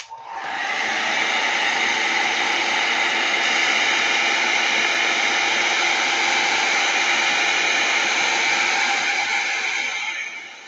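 A hair dryer blows steadily for about ten seconds to dry wet paint on a craft journal, a loud, even rushing whoosh with no talk over it.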